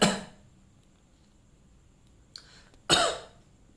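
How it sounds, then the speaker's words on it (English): A person demonstrates a child's cough, giving a short cough at the start, then a brief throat sound and a louder cough near the end, close and isolated against quiet. "if you see a Sina cough, he'll cough like this."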